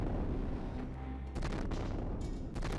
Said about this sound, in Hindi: रूसी अटैक के बाद शहर के इलाकों में तेज धमाके सुनाई दिए।